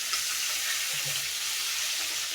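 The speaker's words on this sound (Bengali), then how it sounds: "মাছটা এই যে ভাজা হয়ে গেছে, হালকা করে ভেজে নিলাম" Steady, close sizzling of eel (baim fish) lightly frying in hot oil, a dense crackling hiss that continues evenly without any voices.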